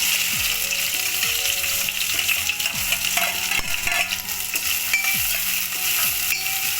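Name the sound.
onion, fenugreek and dried red chillies frying in hot oil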